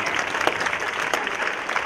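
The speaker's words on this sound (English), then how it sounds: "So a round of applause for all of them in that section." Audience applause at a cherry blossom queen coronation program, a steady dense wash of clapping from a sizable crowd, moderately loud and continuous for the whole stretch.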